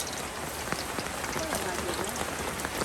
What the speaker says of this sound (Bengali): বৃষ্টি পড়তেছে আর দেখুন আবারও মুষলধারে বৃষ্টি কিছুক্ষণ পর পর শুরু হয়ে যাচ্ছে